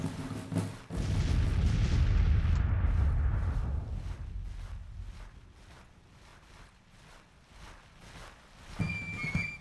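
Artillery fire in Grand Tactician: The Civil War opens with a heavy, booming roar that swells and then slowly fades into a lighter rattling of distant battle, before another burst of activity near the end.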